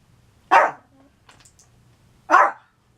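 Two loud, close dog barks about two seconds apart, with faint small noises in the quiet gap between them.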